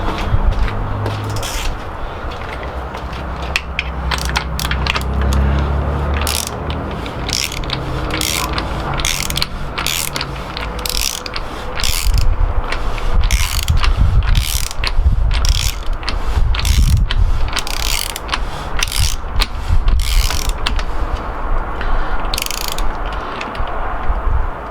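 A ratchet clicks in quick repeated bursts while tightening a threaded bottom bracket with sealed bearings on an old Pashley bicycle, each run of sharp pawl clicks close and loud with short pauses between strokes.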